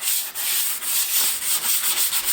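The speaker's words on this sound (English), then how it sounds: "So let me do some sanding." Steady abrasive rubbing of sandpaper over a cracked arcade cabinet cockpit, close and continuous with rhythmic back-and-forth strokes and no voices.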